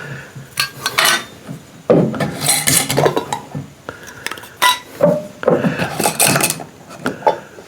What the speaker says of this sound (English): Let me get these lids off.